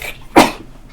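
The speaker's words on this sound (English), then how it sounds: "I'm going to sneeze in a second" A single loud, sharp sneeze bursts out close to the microphone in a quiet room, brief and explosive, then fades back to low background hiss.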